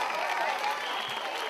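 Audience clapping loudly for a guest introduced at a neighbourhood gathering, a dense continuous patter of many hands without pause.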